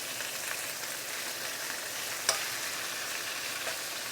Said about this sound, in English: Continue fry the other side for another at least about 2 minutes.